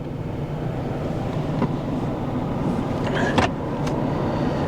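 An old Dodge conversion van engine cranking and running rough with a misfire, a steady loud low rumble throughout with a couple of brief higher clanks near the end, no voices.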